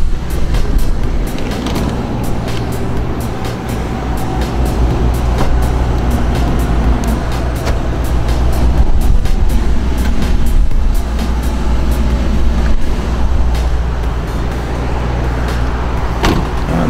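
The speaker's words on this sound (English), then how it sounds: "There's a good exhaust note to it. Definitely sounds good." A 2007 Ford Mustang GT Premium idling, a loud steady low exhaust rumble with small clicks and knocks over it, continuous throughout with no talking.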